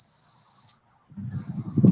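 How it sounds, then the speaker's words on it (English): Crickets chirp loudly in a steady high trill that briefly cuts out and resumes, joined by a low rumbling sound and no talking. "I hear crickets."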